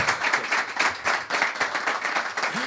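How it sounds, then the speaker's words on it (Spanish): Restrained applause from an audience at a value-investing talk: moderate, fairly quiet clapping holding an even, steady texture from start to finish. "Eso era un aplauso contenido."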